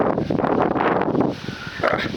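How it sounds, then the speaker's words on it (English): Strong wind buffeting the microphone in loud, rough gusts that ease briefly before surging again. "Today's the first day it's windy and it's blowing like crazy here."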